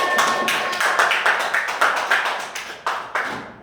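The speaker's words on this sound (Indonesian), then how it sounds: "Oke, tepuk tangan semuanya" Applause in a group setting: a quick run of separate, sharp claps, fairly close and loud, thinning and slowing toward the end.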